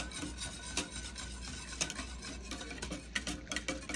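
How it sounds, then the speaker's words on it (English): Cold milk being stirred in a pot for hot chocolate, a quiet repeated scraping and rubbing of the spoon against the pot in an irregular rhythm, close and faint with no speech. "And we'll just keep stirring."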